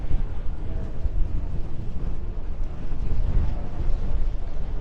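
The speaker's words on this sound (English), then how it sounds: "Very windy today, so if you can hear that up on the mic" Continuous low, rumbling wind buffeting the microphone on Anfield Road, Liverpool, before a Liverpool v Bologna Champions League match, dense and blustery throughout with no voices.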